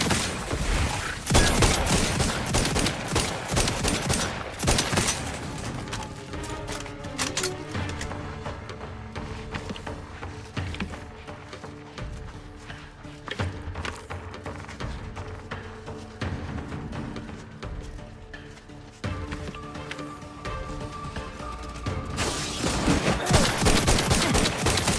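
Gunfire rattles through The Outer Worlds 2, with dense bursts of rapid shots, sporadic single cracks and thuds, loud at the start and again near the end, and no speech over the shooting.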